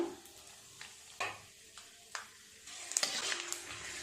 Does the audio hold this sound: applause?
no